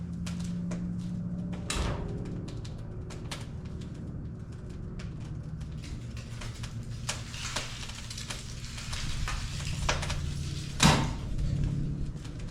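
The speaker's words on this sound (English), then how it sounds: "I should just be able to shut the door." An outdoor wood boiler's firebox door is shut with a heavy metal clunk, one sharp thud standing out near the end over a steady low hum of fans blowing air into the fire, with scattered smaller knocks and clatter.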